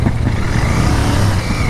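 A 450cc motorcycle rides past on the road between Kathmandu and Pokhara, a loud, rough engine roar with a rising whine, close by and steady throughout, with no talk over it.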